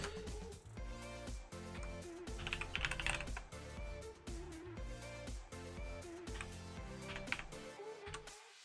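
Rapid, steady typing on a computer keyboard, used while setting up Ubuntu desktop on a Raspberry Pi 4, with close, crisp key clicks running continuously in an uneven rhythm and no voices.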